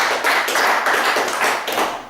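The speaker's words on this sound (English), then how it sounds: "Give volunteer number 1 a huge round of applause there" An audience claps and applauds for a volunteer at a live stage show, a dense, loud, steady burst of many hands lasting a couple of seconds with no talking.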